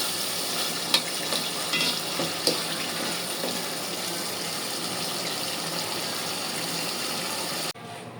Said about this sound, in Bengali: সব মশলা দিয়ে মাংসটা কষিয়ে নিচ্ছি